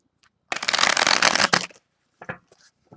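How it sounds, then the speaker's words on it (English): A deck of cards is riffle-shuffled close by, giving one dense, crisp burst of flicking and fluttering followed by a few soft taps and slides as the cards are squared up. "let's give it 2 more shuffles"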